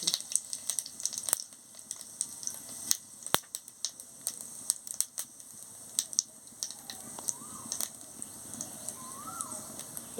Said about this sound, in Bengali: গরম হয়ে গেছে, এবারে আমি তেজপাতা আর গোটা জিরে দিয়ে দিচ্ছি